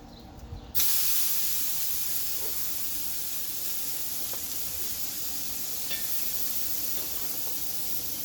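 English cut ribs and steak sizzling on a campfire grill stand, a steady close hiss of frying meat that kicks in after a brief moment and holds alone throughout.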